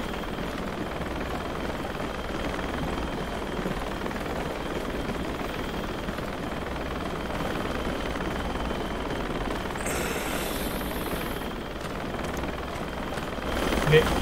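Helicopter in the Squad video game flying low, a steady loud rotor and engine drone running throughout with voices talking over it.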